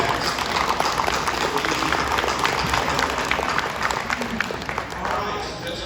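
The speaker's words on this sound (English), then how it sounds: "if everybody could join me in a round of applause for Waste Management" Crowd applause at a city government open house, a steady, dense round of clapping lasting the whole stretch at an even level, fading slightly near the end.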